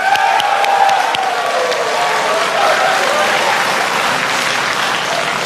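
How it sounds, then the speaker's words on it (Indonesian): An audience at a televised presidential debate bursts into sustained applause, a dense wash of clapping that holds steady for several seconds with a faint voice underneath. "Kita berikan tepuk tangan."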